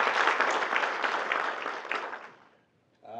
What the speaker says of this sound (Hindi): हमें एक दूसरे को इनकरेज कर सकते हैं तालियों के साथ।